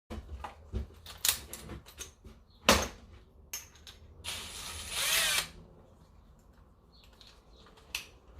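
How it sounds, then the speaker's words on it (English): A power drill with a hole saw cuts a hole for an oil catch can on a 700hp Nissan March racecar, firing in short bursts of whirring and grinding with one longer run, separated by quiet gaps and clicks. "Should be able to get that one with a slightly smaller hole saw"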